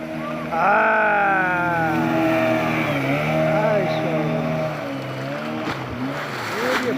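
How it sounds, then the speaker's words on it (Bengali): A speedboat approaches across the water at a park in Rajshahi, its engine drone rising and bending in pitch as it nears, loud and close, while people talk and exclaim over it. "এই যে স্পিড বোট আসতেছে"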